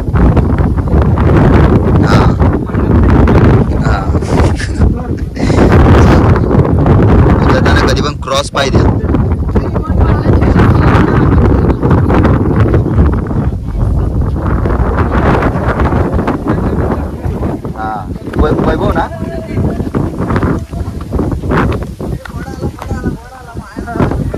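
Strong wind roars and buffets the microphone almost nonstop on a hilltop at Korigad Fort, with voices faintly audible underneath.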